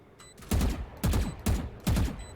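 Bursts of video game gunfire fired upward, four loud broadband volleys spaced about half a second apart, each a short rapid cluster of shots with rumbling low end over a faint background.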